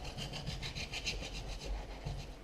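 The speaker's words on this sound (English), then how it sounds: "as I score through that edge, I just tap the ice" A tool scores along the edge of a clear ice block during ice carving, giving a close, steady, rhythmic rasping scrape with no talking.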